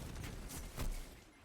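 Gunfire from the Destiny 2 Crucible, a sniper rifle and a hand cannon, comes as a few loud broadband shot bursts with a heavy report near the middle and no talk over it.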